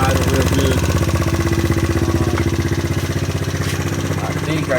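A GY6 scooter engine idles steadily at about 2,000 RPM after carburetor tuning, a close, continuous low putter with a fast, even pulse that holds throughout.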